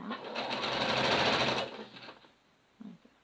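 Sewing machine running a reinforcing pass over a seam on a pinafore dress, a steady fast whir for about two seconds that slows and stops, followed by a couple of soft handling clicks.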